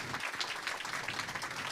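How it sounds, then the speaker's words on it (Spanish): Audience applause for a Chilean regional entrepreneur taking the stage at an innovation talk in Temuco, a steady moderate wash of clapping filling the whole clip without talk over it. "El aplauso entonces para este emprendedor chileno, regional,"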